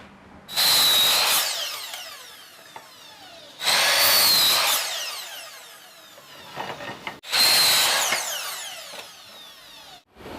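A two-in-one power saw for miter and rip cuts bites into a wooden log three times in bursts, each a loud, close buzzing cut separated by quieter idle pauses.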